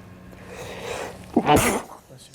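A person sneezes once, sharply and close, after a brief murmur of background voices in a room during a town committee meeting.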